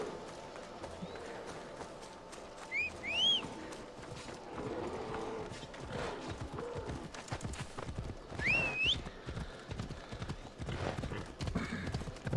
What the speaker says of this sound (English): we'll summon our horse. And we'll auto-ride over there,